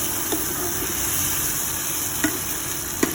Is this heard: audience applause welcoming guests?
no